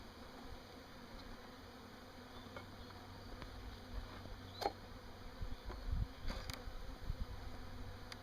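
Honey bees loose around a backyard hive, a faint steady hum with scattered brief clicks and knocks from nearby handling, no voices.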